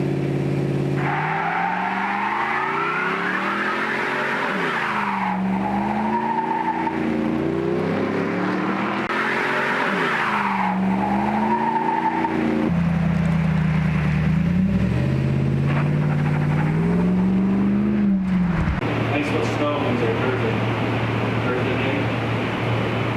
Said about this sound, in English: my buddy can do a better burnout than me